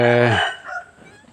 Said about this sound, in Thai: ต้อนไก่เข้าข้างในนะ ฝนตกแล้ว